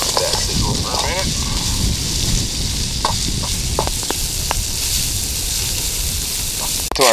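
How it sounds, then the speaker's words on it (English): A catfish fillet sizzles in a pan with basil, giving a steady frying hiss, and a few clicks and scrapes come through as the outdoor beach cooking goes on. "Let that sizzle for a minute."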